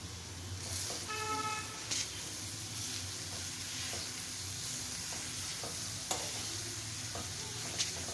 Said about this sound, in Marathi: मुळ्याचा किस घातल्यावर छान असा परतवून घ्यायचा आहे